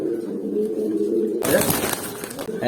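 A pigeon chick of the Kurti breed coos softly in short, low, close calls. A sudden burst of broadband noise cuts in about halfway through.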